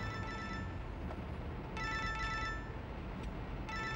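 An electronic telephone rings in repeated trilling bursts in an indoor home setting, moderately loud over a steady background hiss, with no talking.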